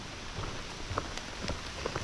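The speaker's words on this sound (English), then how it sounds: "I've got a nice light rain right now." Light rain falls on the Appalachian Trail: a soft, even hiss of rainfall with scattered, faint droplet taps throughout.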